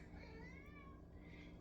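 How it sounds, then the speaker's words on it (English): A housecat meows in the background indoors with a drawn-out, wavering call over a steady low hum, no talk. "that's my roommate's cat in the background."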